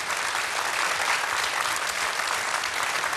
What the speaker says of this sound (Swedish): Och fortsätt applådera för Sanna Nyström också, lådgäst för dagen.